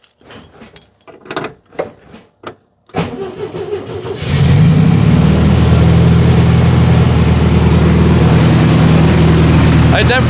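Keys jangle in the ignition of a 1967 VW Beetle before the engine cranks and catches, settling into a loud, steady close idle after a misfire repair.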